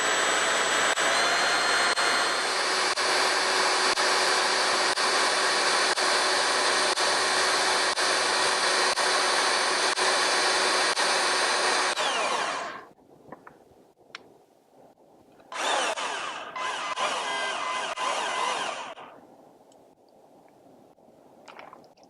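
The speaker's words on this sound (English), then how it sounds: "we're going to slip the core bit right over top of the existing bolt" Core drill bit cutting with water around an old existing bolt, a loud, steady high whine for about twelve seconds, then a pause with faint clatter before a shorter second burst of drilling.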